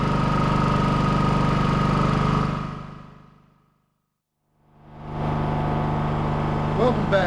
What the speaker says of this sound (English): This Champion generator, it's been running about 2 hours now.